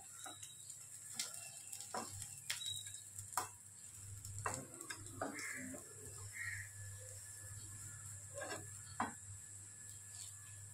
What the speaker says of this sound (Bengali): উলট পালট করে এইভাবে সব ভেজে নেব।